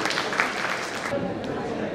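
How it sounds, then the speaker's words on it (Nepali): An audience at a national convention of a professional federation in Nepal claps in a dense, steady round of applause, with voices audible beneath it. "यहाँले यो अध्यक्ष मण्डलको नामहरूलाई ताली बजाएर समर्थन गर्नुहुन्छ"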